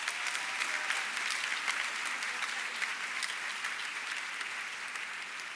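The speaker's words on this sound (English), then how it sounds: "Give yourselves a round of applause." Audience applause at a sorority foundation luncheon, a steady dense clapping from a room of people that holds evenly throughout at moderate level, with no talk over it.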